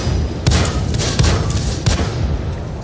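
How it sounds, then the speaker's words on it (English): Light tank cannon fire during a drive-by in World of Tanks on the Mannheim map: a few dull, heavy booms over a dense, loud rumble of engine and battle noise. "This is a classic light tank drive-by."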